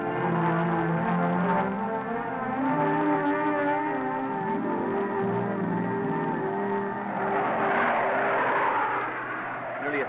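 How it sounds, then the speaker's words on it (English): A Blue Angels F-4J jet with two General Electric J79 engines roars on takeoff, a loud, sustained whining drone that holds steady and shifts in pitch toward the end. "allowing those 2 General Electric J79 engines that power these aircraft to drive his F-4J straight up"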